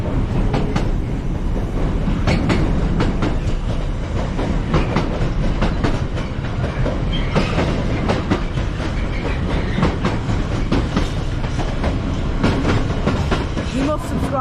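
Train passing through Manchester Piccadilly station, a steady loud rumble with rhythmic wheel clicks over rail joints continuing throughout, no voices.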